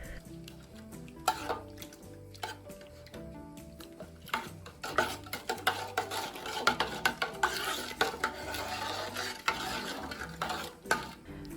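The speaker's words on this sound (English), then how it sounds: "Mix the cleaning solution well." Continuous scraping and stirring of a mustard powder cleaning solution in a greasy, burnt metal frying pan, with a rhythmic swishing and occasional clinks, close and fairly quiet.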